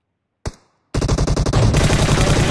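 Rapid automatic gunfire from the mobile battle-royale game PUBG Mobile: one sharp shot, a brief pause, then a loud, sustained burst of fast repeated rounds that keeps going to the end, with no talking.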